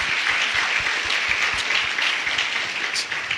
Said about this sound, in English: I think our speakers tonight deserve a round of applause, and I think we should do that for them.